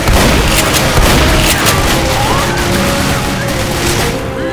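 Pistol fire in the video game Left 4 Dead, a loud, rapid run of sharp shots that is densest at the start and thins out over a rough, noisy game background.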